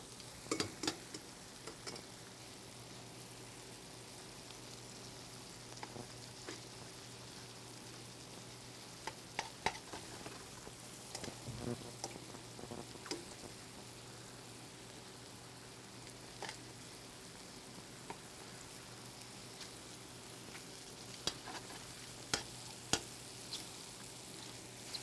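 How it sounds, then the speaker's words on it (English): Mushrooms browning in a pan for wild mushroom risotto, a steady soft sizzle with scattered faint crackles and ticks throughout, low in level and heard alone without talk. "So I'm gonna get these mushrooms nice and brown here."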